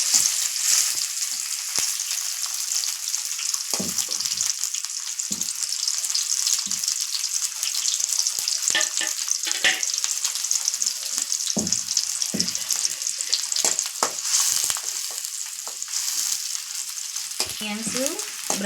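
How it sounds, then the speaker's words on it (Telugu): Onions sizzle and fry continuously in hot oil in a pan for a chicken dish with broad beans, a steady crackling hiss broken by occasional scraping stirs of the spoon. "ఆనియన్స్ బ్రౌన్ కలర్లో రావాలండి, వచ్చేదాకా వేయించుకుందాం."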